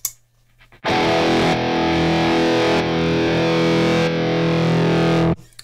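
A distorted electric guitar runs through a Sentimental Bob Electronics Tacana Tremolo pedal, holding a loud, sustained chord for about four and a half seconds. The level pulses in slow, regular steps, with no talking.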